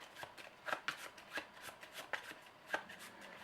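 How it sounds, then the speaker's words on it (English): A deck of game cards for the Eldritch Horror board game is shuffled by hand, giving a run of crisp riffling bursts and soft slaps at an uneven rhythm, close and moderately quiet, with no talking. "So we will shuffle this deck."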